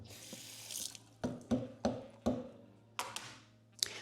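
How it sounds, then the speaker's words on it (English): Kitchen tap runs as something is rinsed under it, water splashing and sputtering in uneven bursts with clattering knocks, close and moderately quiet. "I'm gonna rinse this off."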